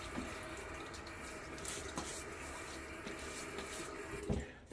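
Tap water runs steadily and close by at a sink as a face is wetted before a shave with a Gillette flat-bottom Tech razor, with faint clinks and splashes breaking through the continuous flow.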